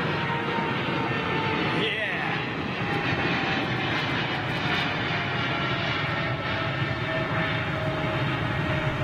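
Jet airliner, an Ethiopian heavy, landing at London Heathrow Airport: a loud, steady roar fills the whole span, with a brief swell of engine noise early on as it passes close by.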